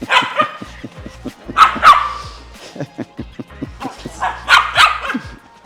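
A female kennel dog barks in quick, close bursts of sharp yips and woofs, loud and irregular, with brief whimpery sounds between volleys.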